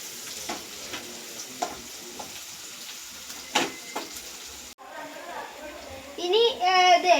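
Crab fries with turmeric in a pan for a Kerala crab roast, with quiet sizzling and intermittent scraping stir strokes, then children's voices chatter close by near the end.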